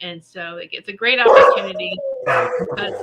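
Dogs at an animal sanctuary barking and yipping in short bursts during a live broadcast, mixed in with and partly under continuous talking.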